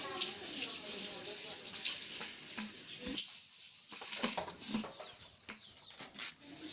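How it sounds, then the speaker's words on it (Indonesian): Water splashes and runs while a bamboo tube is rinsed and washed inside and out, with birds and other outdoor background noise around it throughout. "Setelah bagian dalam dan bagian luar bambu dibersihkan, kita bersihkan ulang, dicuci ulang, dibilas."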